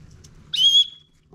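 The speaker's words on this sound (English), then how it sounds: "this chest buckle actually has a whistle built right into it" A small whistle built into an Osprey Talon 22 backpack's chest buckle gives one short, shrill, high-pitched blast, close and clear against a quiet background.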